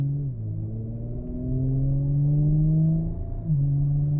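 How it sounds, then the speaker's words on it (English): Audi B9 S4 on a stage 1 tune with stock exhaust, idling and revving with a low steady burble that rises and falls, a brief blip of revs near the end, heard close and alone. "Clearly, those crackles are pretty cool, the little burbles."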